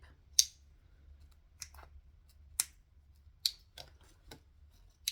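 Scissors snip sewing thread and a jump stitch after machine stitching, five or six short, crisp cuts spaced irregularly, close and fairly quiet over a low hum.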